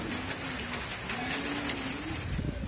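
Pigeons cooing outdoors during a force-fly session, a low wavering coo running through steady background hiss, with faint rain-like texture.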